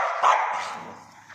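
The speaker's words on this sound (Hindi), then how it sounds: "बाहर एक और कुत्ता बैठा" A single close, sharp dog bark outdoors, a short loud yelp that tails off within about a second.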